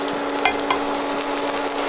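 Small pieces of sausage sizzle steadily in a frying pan, a dense continuous crackle with occasional sharper pops, close and fairly loud with no voices.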